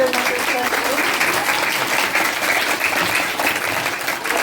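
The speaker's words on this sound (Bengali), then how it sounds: "সবাই হাত তালি" An audience at a retirement ceremony applauds, a dense, even clapping that holds steady throughout with voices mixed in.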